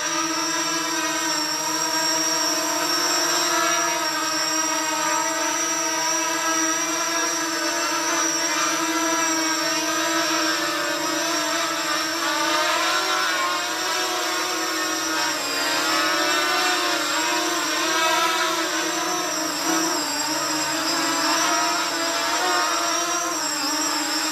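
Small Flying 3D X6 hexacopter with fragile propellers whirring steadily in flight, a continuous buzzing drone with shifting pitch that stays close and loud for the whole stretch, with no voices.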